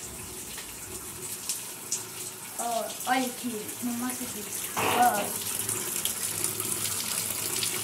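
A washing machine tub fills with water in a steady, moderately loud gushing stream, while someone speaks briefly over it partway through.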